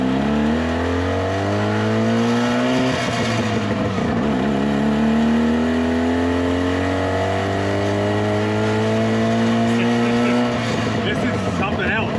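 A loud engine in a 1970 Subaru van with a non-synchro gearbox revs and shifts gears, pitch climbing, dropping, and climbing again in long sweeps, close and continuous.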